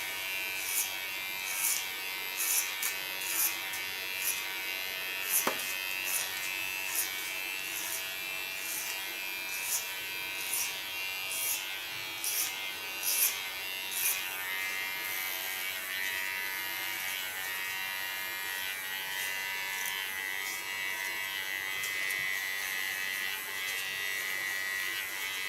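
An electric hair clipper runs steadily during a nape shave, giving a continuous high buzz close by, broken by faint regular ticks and small clicks, with no talk.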